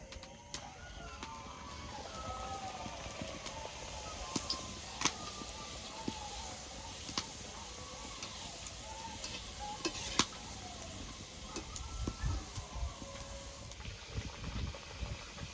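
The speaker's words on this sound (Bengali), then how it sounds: "তেলটা গরম হয়ে গেছে, এখন লুচিটা ছেড়ে দেব।" A luchi fries in hot oil with a constant close sizzle and bubbling, steady and moderate in level, with occasional small clinks and pops and no talking.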